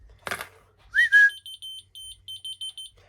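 A sharp whistle sets off a small key finder, which answers with a series of loud, high electronic beeps in short, evenly spaced bursts in a quiet room.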